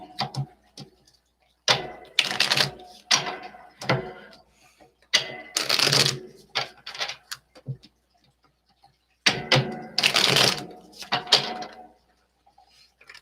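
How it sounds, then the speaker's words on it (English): Tarot cards being shuffled by hand in a quiet room, giving repeated bursts of crisp riffling and flicking, several separate shuffles with short pauses between them, close and fairly loud. "Give me moments to shuffle."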